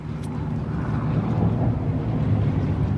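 A deep, rumbling car exhaust with newly installed aftermarket pipes drones steadily and loudly, a low throaty roar with little variation, with no talking.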